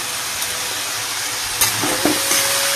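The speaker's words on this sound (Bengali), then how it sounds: "আলুটাকে ভাজছি" Potatoes frying in a pan, a dense steady sizzle close by with a few sharp clicks and scrapes from stirring near the end.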